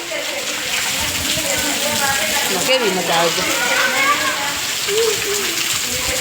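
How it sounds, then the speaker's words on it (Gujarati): A constant dense hiss of very heavy rain pouring down in Bhesan, with voices talking over it. "સીધા પાણી ચાલુ થઈ જાય એવો વરસાદ"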